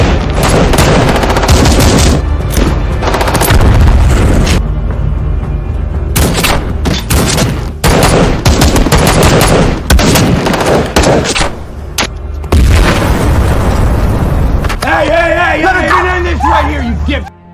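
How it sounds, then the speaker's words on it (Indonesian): Gunfire and explosions in an action film about an FBI special agent, loud bursts and booming blasts running almost nonstop with brief gaps, dense and close, under continuous dramatic soundtrack. "Namun di mana Tess langsung melontarkan senjata"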